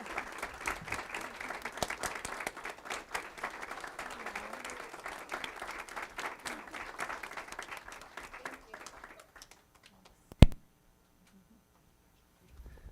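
A school board meeting audience applauds fine arts teachers with dense, sustained clapping for about nine seconds before it trails off, a voice speaking beneath and a sharp knock at the end.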